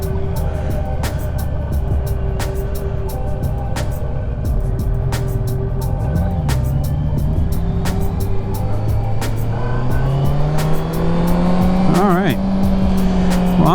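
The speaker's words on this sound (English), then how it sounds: "That must be a car club meeting or something going on." Cars at a busy car club meeting, heard from a Honda CB650F motorcycle in Cornwall: engine drone and rising revs, with a squealing whine near the end, while a rider talks over it.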